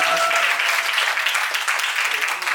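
A theater discussion audience in Yogyakarta claps and applauds in a dense, steady wash of hand claps that holds for a few seconds.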